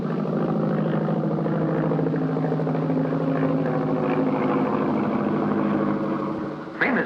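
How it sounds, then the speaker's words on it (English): Early light aircraft with a flimsy 750-pound frame and a 23-horsepower motor, droning steadily and loudly throughout with a buzzing propeller hum, tailing off briefly near the end. "This flimsy craft weighs only 750 pounds, has a 23 horsepower motor, and not an instrument in sight."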